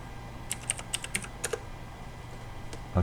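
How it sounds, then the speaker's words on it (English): Keys clatter on a computer keyboard in a short burst of quick, uneven taps, close and crisp over a low steady hum, with a brief pause before a final click. "let's type in"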